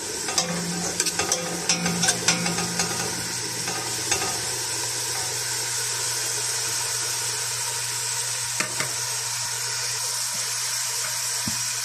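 Onions hit a hot pan for an okra-with-meat dish and sizzle steadily, a close, continuous frying hiss with occasional stirring clatter and no talking.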